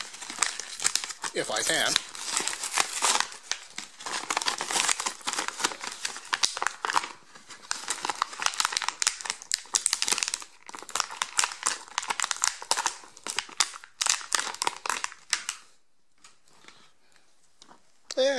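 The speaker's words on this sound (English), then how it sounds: "So let's pull him out of the card." An action figure is pulled from a cardboard blister card, with loud, close plastic crinkling and tearing in bursts, trailing off near the end, and a brief spoken remark.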